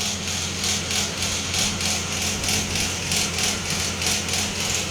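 An air cooler runs close and loud, making a constant mechanical whirring hum with a fast, regular rattling pulse throughout and no talking.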